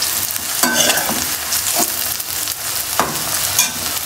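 Chopped ginger and garlic frying in oil in a pan before tomatoes go in, a steady close sizzle with a few brief stirring scrapes, loud and alone with no talk.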